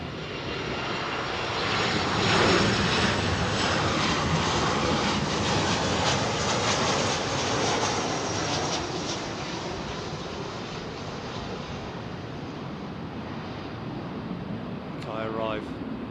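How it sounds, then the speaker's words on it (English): A KLM Boeing 737 on a fast, high-speed landing approach at Heathrow fills the air with a loud, sustained engine roar that swells and then slowly fades, with voices talking beneath it. "737 with KLM. Fast, high-speed approach."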